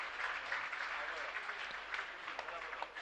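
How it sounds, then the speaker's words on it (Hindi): Light applause from an audience at a Jain religious gathering with Muni Shri Praman Sagar, a steady, moderate patter of clapping lasting a few seconds with no voices. "थोड़ी सी ताली, ज्यादा नहीं बजानी,"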